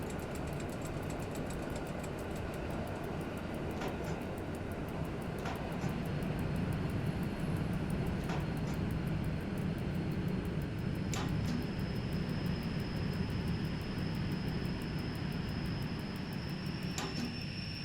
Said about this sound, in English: Now we can hear the compressor working.